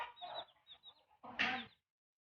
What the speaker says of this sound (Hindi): एक मुर्गी इसके अंदर बैठी है